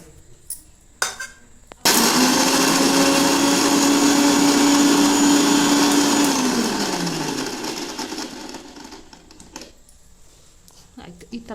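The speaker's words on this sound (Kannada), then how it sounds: "ಇದನ್ನ ಮೊದಲು ಮಿಕ್ಸಿ ಮಾಡ್ಕೊಂಬಿಡೋಣ" A mixer grinder whirs loudly for about five seconds, grinding soaked rice, lentils and spices into batter, then winds down and fades, with short clicks and handling sounds before and after.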